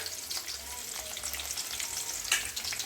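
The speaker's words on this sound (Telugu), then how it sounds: "ఇది కొంచెం ఫ్రై అయ్యేదాకా కలుపుతున్నా." Green chillies, onions and mint sizzle steadily in hot oil, with soft scraping stirs and small crackles running throughout at close range, no voices.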